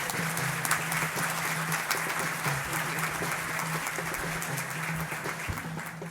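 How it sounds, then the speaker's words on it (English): An audience applauds at the 52nd Greater West Bloomfield Michigan Week Community Awards Breakfast, a dense, even roar of clapping sustained for about six seconds with a low steady hum beneath. "Round of applause."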